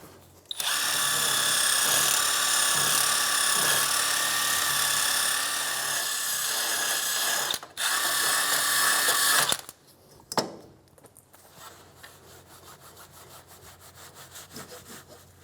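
A wire brush wheel on a power tool scours the inside of a rear wheel knuckle on a 2003-2007 Infiniti G35, a loud, harsh, steady grinding whir for about nine seconds with one brief break, then stopping and spinning down.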